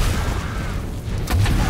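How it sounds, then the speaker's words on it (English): An explosion in the video game Alice: Madness Returns lands as a short, loud boom near the end, set over dense, steady game noise. "I like the explosion color now, it's pretty cool"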